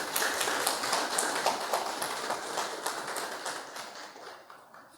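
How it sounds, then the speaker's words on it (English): Audience applause for Mr. Keith Barr at his book launch evening, a dense crowd of claps filling the room, steady at first and slowly fading over a few seconds. "Let's give Mr. Barr a round of applause."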